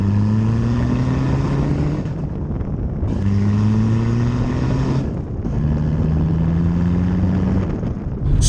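A VW Bora PD Highline driving on the road, with a steady drone of engine and road noise rising in pitch through the gears, the pull repeating in three long stretches with brief dips between shifts.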